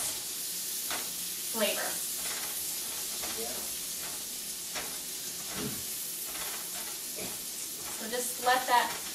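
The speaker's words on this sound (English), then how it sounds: "We're just going to saute them for about 2 minutes." Onions sauteing in a pan, a soft steady sizzle with occasional stirring scrapes, heard close under a voice speaking throughout.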